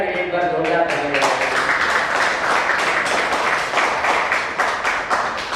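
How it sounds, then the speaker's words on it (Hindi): After a short spoken line, an audience at a Hindi kavi sammelan poetry gathering bursts into loud, sustained applause, many hands clapping densely and close. "कविता के लिए एक बार जोरदार तालियां।"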